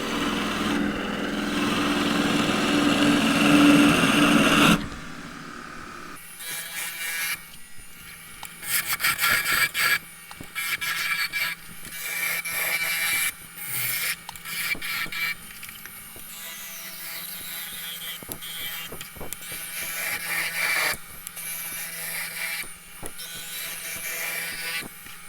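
A gouge cuts a tall spruce goblet on a lathe, a rough scraping whir that comes in bursts, with a steady motor hum in the gaps between cuts.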